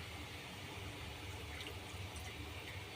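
Water poured gently in a small amount over tamarind for a simple Tamil tamarind curry, a steady, soft trickling and splashing that runs continuously, close and fairly quiet.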